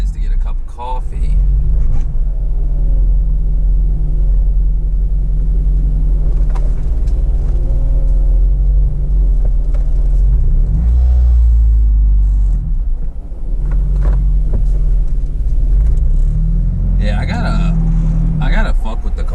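A car engine idling with an exhaust leak, a loud steady low rumble with a slightly uneven idle that runs throughout, a voice talking over it at times.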